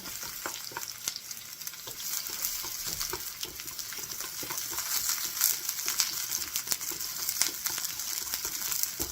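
Sliced white onions sizzle and crackle steadily in a hot pan for Japanese beef udon, a dense, continuous fry with scattered pops and no voices.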